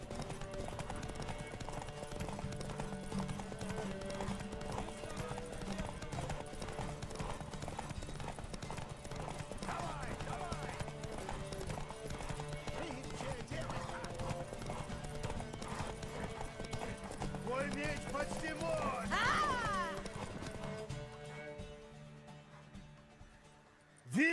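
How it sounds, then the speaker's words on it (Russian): Horse hooves clip-clopping steadily in The Witcher 3, a continuous rhythmic patter under low game music, with voices talking over it and a brief neigh near the end before the sound fades out. "Что, кобыла понравилась? У меня когда-то такая была."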